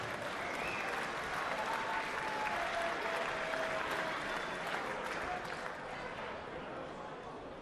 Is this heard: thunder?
no